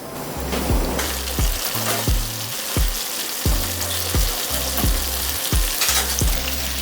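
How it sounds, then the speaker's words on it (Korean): Tofu frying in plenty of cooking oil in a wide pan, a loud continuous sizzle and crackle broken by repeated rhythmic clanks and scraping from a utensil against the pan. "두부는 갈색이 되도록 잘 지져주셔서 한번 뒤집어 주겠습니다"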